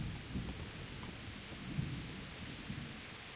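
Steady rain with low rumbling thunder fills a stormy scene in the video game Kingdom Come: Deliverance, a continuous wash of downpour under rolling low booms that stays even throughout.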